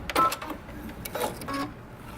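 A sewing machine backstitches a seam on a dress sewn from Simplicity pattern 8451, delivering short mechanical whirring bursts separated by brief pauses, close and moderately loud.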